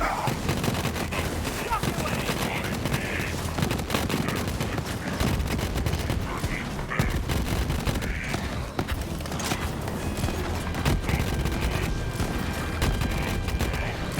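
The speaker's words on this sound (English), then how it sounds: "Oh, the explosions!" Dense video game combat from Borderlands 3, with rapid gunfire and explosions crowding together continuously under loud game noise, with occasional voices mixed in.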